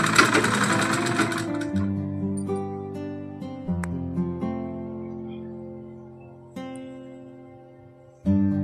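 A sewing machine stitches piping onto a blouse with a square neckline, starting with a loud burst of rapid running, then falling to quieter intermittent mechanical whirs and clicks with short stops and restarts.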